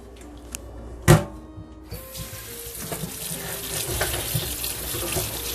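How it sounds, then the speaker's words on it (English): A kitchen sink tap runs over fenugreek microgreens being rinsed, a sharp clunk as the tap turns on, then a steady close rush of splashing water. "give it a nice good rinse"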